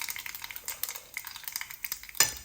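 Mustard and cumin seeds crackle in hot oil with a quick run of small pops and sizzles, capped by a sharper burst near the end; close and fairly quiet, without speech.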